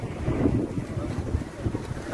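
Steady wind blows outdoors and buffets the microphone with a constant low roar and rumble. No voices are heard.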